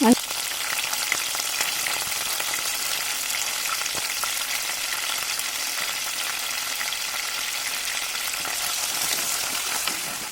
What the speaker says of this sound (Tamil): தட்டி வச்சது கூடவே ராளையும் சேர்த்துருங்க எண்ணெயிலே வதங்கும் போது டேஸ்ட்டு சூப்பராக இருக்கும்